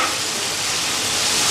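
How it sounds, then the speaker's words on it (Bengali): Shredded cabbage fries in a pan with a steady, loud, close sizzling hiss that stays unbroken throughout, no voices. "বাঁধাকপিটাও ভাজা হয়ে গেছে"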